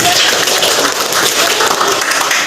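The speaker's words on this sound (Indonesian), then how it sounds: "Oke, tepuk tangan semuanya." A classroom of students applauding together during a lesson, a steady, fairly loud wash of clapping lasting a couple of seconds.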